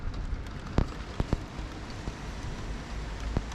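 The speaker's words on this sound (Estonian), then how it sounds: "vihma sajab ja niiske on." Steady rain falling outside a window in Australia, a soft continuous patter with a few sharper drops landing close by, no voices.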